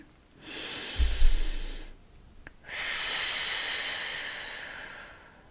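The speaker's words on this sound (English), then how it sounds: "Take a breath with me, a deep breath with me." A slow, deep breath taken near the microphone: a long airy inhale, a short pause, then an even longer hissing exhale, with no speech.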